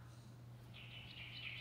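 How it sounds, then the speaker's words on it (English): Birds chirp and twitter in a Snow White and the Seven Dwarfs stage musical, a busy cluster of high calls rising after a brief lull and continuing steadily over a low constant hum. "Away with you birds, I can't stand the sound of your singing."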